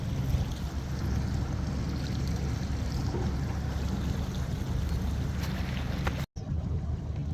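A Suzuki 75hp outboard motor idling on a boat, a steady low rumble with water wash, continuous and fairly near, with a brief dropout near the end.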